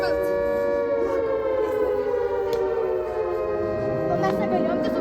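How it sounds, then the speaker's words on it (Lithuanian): In a film scene, a civil defense siren wails loud and close with a sustained rising and falling tone, and a second siren layer sweeps up near the end. "Tu girdi tas sirenas"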